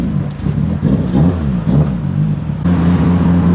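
The engine of a Mitsubishi Evo 8 rises and falls through several revving surges while driving, loud and close, then holds a steadier drone.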